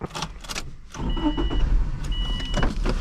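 A 2003 Subaru Impreza Wagon cranks briefly and catches, then settles into a low idle rumble, heard close up with some clicks and cabin noise around it.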